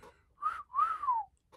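A person whistles a short two-part tune alone: a brief steady note, then a longer note that rises and slowly falls away, clear and close with no talking.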